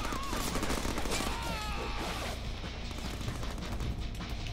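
Rapid, dense gunfire from the Deadpool video game, a continuous loud clatter of shots that fills the whole moment and blends with chaotic game noise and a brief high whine, with no talking over it.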